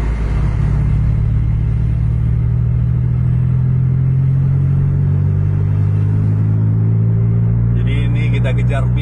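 A Mercedes-Benz 1836 sleeper bus drives along the road with a deep, loud engine rumble and droning tone that stays steady. A voice talks over it, and a brief rattle comes near the end.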